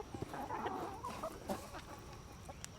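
A chicken clucks in short, soft bursts close by outdoors, a few quick choppy calls that fade into faint background chatter of farm birds.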